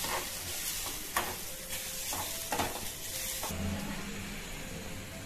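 Whole spices such as coriander seeds, cinnamon pieces, cardamom and cloves dry-roasting in a pan for a goat leg soup, with a steady close sizzle and several sharp scraping stirs, no voices.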